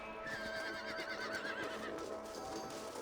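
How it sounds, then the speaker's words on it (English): A horse in the video game Red Dead Redemption whinnies with a long wavering neigh, with hooves clip-clopping faintly amid steady ambient background sound. "Let's get back on the horses and see what else is going on."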